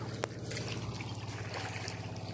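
Water flows steadily outdoors at a spot where people bathe, a continuous soft trickling and rushing that stays even and close throughout.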